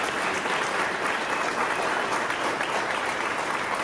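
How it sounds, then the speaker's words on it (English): Steady applause from an audience at a multipurpose arena groundbreaking, a dense wash of clapping at moderate volume without pause. "Let's give them all a round of applause."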